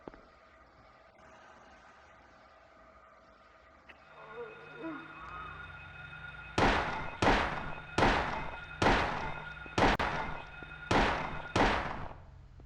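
Gunshots ring out in Silent Hill (1999): after a quiet stretch of low ambient hum and faint game tones, seven loud, evenly spaced shots crack in sequence, each with a short decaying tail.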